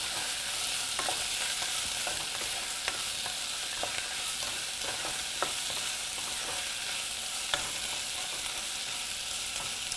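Onions sauté with salt in a pan, a steady bright sizzle with occasional stirring taps, close and moderately quiet, with no talking.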